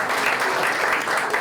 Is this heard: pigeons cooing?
no